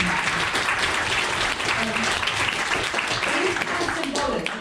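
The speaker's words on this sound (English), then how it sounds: "please can we give everybody a clap for doing that" Sustained applause from a meeting audience at a national climate campaign gathering, dense steady clapping filling the whole stretch with a few voices mixed in.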